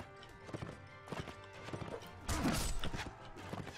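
Horse hooves clatter in a rapid galloping rhythm in the medieval battle game Mount & Blade: Warband, with a brief whinny and crashing battle noise rising midway, fairly loud and close.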